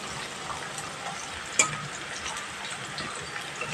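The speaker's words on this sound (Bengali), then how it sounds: "আলু ভাজা হয়ে গেছে, তুলে নেব" Potato slices fry in hot oil for a Bengali silver carp curry, making a steady, dense sizzle that runs throughout, with a single brief clatter in the middle.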